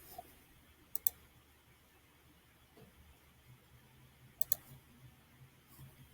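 Two quick pairs of sharp mouse clicks, a few seconds apart, over a quiet room background as someone clicks restore in a school gradebook program.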